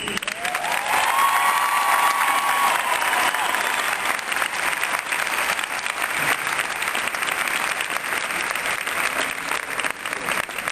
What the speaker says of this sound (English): I ask you to join me in giving a round of applause first to all of the family members who are here to celebrate with you